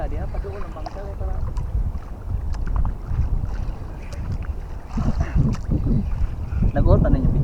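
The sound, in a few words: fishing boat approaching on the sea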